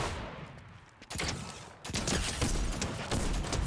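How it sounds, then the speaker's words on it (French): Rapid bursts of gunfire from the video game Fortnite, played in first person, crackling in dense overlapping volleys that grow louder and more continuous after a brief pause. "les deux ils me tirent dessus"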